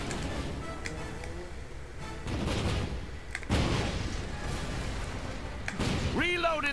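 Ship cannons fire in the video game Disney Infinity, several heavy booms and thuds in a busy battle mix with game noise, and a voice speaks briefly near the end.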